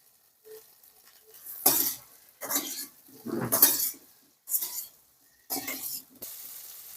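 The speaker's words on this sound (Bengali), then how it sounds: "এরপর দুটো শুকনো লঙ্কা ফাটিয়ে দিয়ে দেব" Dry red chillies crackle and sizzle in hot frying oil, in a Bengali aloo posto preparation with potatoes already frying. Six loud bursts of sizzling come close together, each lasting about half a second, separated by short quieter gaps.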